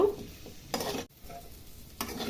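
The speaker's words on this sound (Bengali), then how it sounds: "1 মিনিট সময় নিয়ে আমি নেড়ে চেড়ে এঁচোড়টা ভেজে নিব" Boiled jackfruit pieces fried with turmeric and salt in a pan over a medium gas flame for a Bengali prawn dish, crackling steadily while a spoon scrapes and stirs in two bursts.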